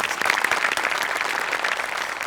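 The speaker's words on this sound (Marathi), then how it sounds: "एकदा जोरदार टाळ्या त्यांच्यासाठी सुद्धा" Sustained applause from a comedy show audience, dense and steady clapping throughout at a fairly loud, even level.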